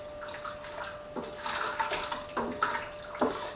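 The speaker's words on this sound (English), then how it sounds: "So, I'm giving this a nice little stir" Berry tea wine mixture with bananas being stirred in a pot, giving soft liquid sloshes and swirls with a few light spoon knocks, close and gentle, rising in bursts as the stirring goes on.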